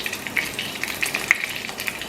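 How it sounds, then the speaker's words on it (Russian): Vegetable oil heats in a frying pan, giving a faint, steady crackling sizzle with small pops and no talking. "Я включила разогреваться сковородку и наливаю немного растительного масла."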